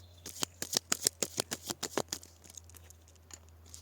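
Cards being pulled from a deck, a quick run of about a dozen crisp snapping flicks close by, then quiet with a faint low hum.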